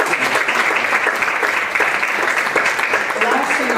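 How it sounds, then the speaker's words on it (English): An audience at a Reunification Day 2023 event gives a steady round of applause, a dense and fairly loud clapping that fills the room for a few seconds without break. "please give her another round of applause"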